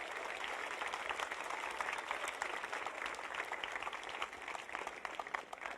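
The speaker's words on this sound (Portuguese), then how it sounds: "Salva de palmas." Church congregation clapping after a prayer, a soft, steady wash of many hands heard from a distance, continuing evenly for several seconds without clear individual claps.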